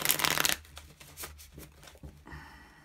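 Tarot cards being shuffled by hand for a reading: a dense burst of riffling at the start, then softer scattered card slides and taps, close and alone without talk.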